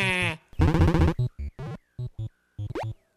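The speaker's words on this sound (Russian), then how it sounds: "Ладно, поищем овец. Мне нравится их звуковое сопровождение." Sheep bleat repeatedly in a video game, a long loud wavering bleat followed by a run of short choppy electronic bleats and blips, alone without talk.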